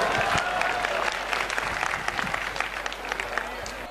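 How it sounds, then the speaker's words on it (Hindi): Loud crowd applause at a night program of a Hindu unity padyatra rally, dense steady clapping from many hands filling the whole stretch, with some voices mixed in. "जोरदार ताली बजा करके"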